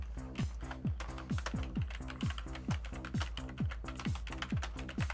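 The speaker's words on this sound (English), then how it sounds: "Typing. I'm doing the typing, everybody." Computer keyboard typing, faint and steady, a regular stream of soft clicks over a low background tone with a repeating descending mechanical chirp, no talking.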